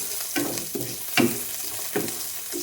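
Garlic frying in a pan, a bright steady sizzle broken by a few louder bursts of stirring, close and alone without any talk.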